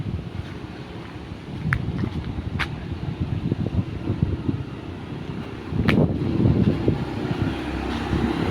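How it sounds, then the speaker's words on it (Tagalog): Strong wind after a typhoon rushes through trees and stirs leaves, a continuous gusting roar with microphone buffeting that swells louder near the end, plus a few faint distant clicks. "Sumasayaw yung mga dahon sa lakas ng hangin."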